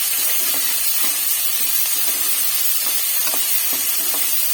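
Sliced big onions and garlic sauté in hot oil in a cooker with a steady loud sizzle, while a spoon stirs with a few soft scraping knocks; no voices.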